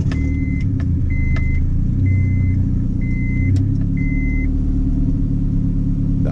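A car engine with freshly tuned injectors idles loudly and steadily after startup, producing a deep continuous rumble with faint intermittent beeping tones over it.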